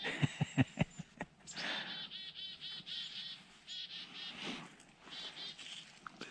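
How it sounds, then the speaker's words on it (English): Several small birds chirp and call in quick bursts, rising into steady chattering twitters after a few sharp low knocks at the start, heard outdoors at moderate distance with no talking. "See, the chickadees already responded."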